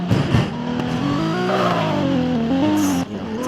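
Toyota Supra in the Garry's Mod video game revs loudly and up close, engine pitch climbing and dropping through several rising sweeps before cutting off near the end, no voices.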